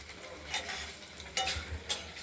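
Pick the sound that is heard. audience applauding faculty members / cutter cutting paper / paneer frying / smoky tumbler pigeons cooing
paneer frying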